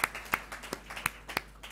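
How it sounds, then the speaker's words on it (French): A small colloquium audience claps for Nicole, several distinct, fairly spaced hand claps rather than a full roar, faint and somewhat distant over a low background hum. "en applaudissant Nicole, nous sommes en train d'applaudir tous les comités du pilotage de ce master"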